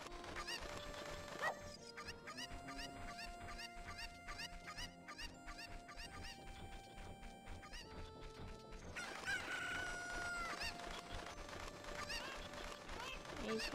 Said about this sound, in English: One chicken.